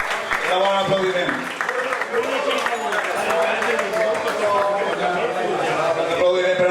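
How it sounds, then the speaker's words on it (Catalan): Steady applause from a seated crowd at a veterans' football league closing dinner, continuous and fairly loud for the whole stretch, with voices mixed into the clapping. "Enhorabona, aplaudiment."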